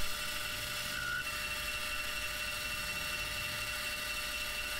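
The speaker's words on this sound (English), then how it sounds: "I'm just plunging a little bit with a diamond shaped carbide tool" Sieg C6 lathe plunge-cutting a pulley with a diamond-shaped carbide tool, a steady motor whine and high cutting hum holding throughout, close and continuous with no talk.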